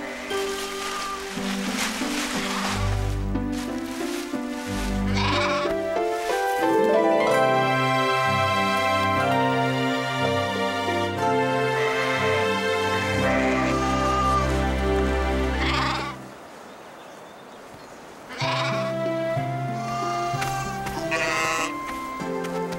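Sheep bleat repeatedly in a cartoon-style scene, several wavering calls in sequence, some overlapping, loud and close, with a short quieter pause before more bleats return.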